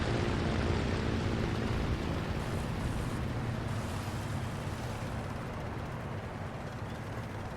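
A loud, steady drone of aircraft engines in War Thunder fills the whole stretch, a broad continuous roar that fades slightly toward the end, with no speech over it.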